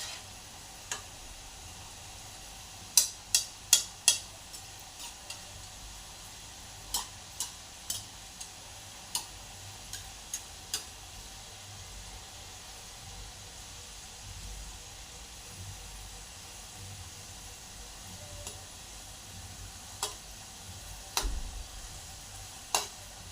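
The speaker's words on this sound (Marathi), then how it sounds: "मंद गॅसवरती आपण छान असे क्रिस्पी होईपर्यंत ते तळून घेऊया." Wheat flour modak frying in oil over a low flame, a faint steady sizzle punctuated by scattered sharp pops and clicks, some in quick clusters, with no talking.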